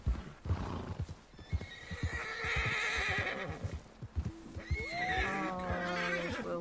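A horse in the video game Red Dead Redemption 2 clip-clops along, then snorts and gives a drawn-out neigh, fairly quiet with footfalls scattered throughout.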